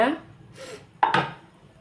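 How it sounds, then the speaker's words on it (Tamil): A cooking pan is set down on a stove while preparing beef fry, giving a sharp metallic clank near the middle, followed by a brief scrape and some soft kitchen clatter at moderate loudness. "அடுப்பில் சட்டி வச்சுங்க"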